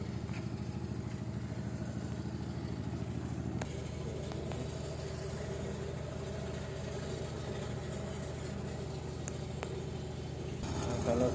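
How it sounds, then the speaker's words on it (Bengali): A generator drones steadily with an even, mid-pitched engine hum in a potato field without mains power, the tone holding constant for several seconds and swelling slightly at the end, with no voices. "এখনো কারেন্ট চালু হয়েছে না, জেনারেটার চালাচ্ছে এখানে।"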